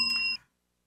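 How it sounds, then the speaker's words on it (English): A bell signal marking the end of a shift rings out as a short bright electronic tone with steady harmonic partials. It lasts under half a second and then cuts off to silence. "Well, that was the double bell."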